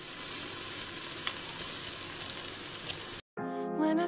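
Onions sizzling steadily in olive oil inside a Cookeo multicooker, a constant close frying hiss that cuts off briefly near the end before music begins.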